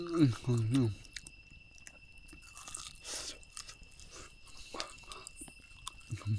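Food is chewed while eating outdoors during an overnight forest camp, with soft, close crunching and mouth sounds after someone speaks briefly at the start, and his voice returns faintly at the end.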